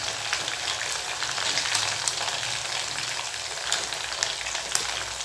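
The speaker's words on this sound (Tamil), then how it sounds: "எல்லா மீனையும் நான் இந்த மாதிரி வறுத்து எடுத்துட்டேன்" Pieces of shark fish frying in hot oil, a dense, even sizzle like steady rain with small pops, close and continuous throughout.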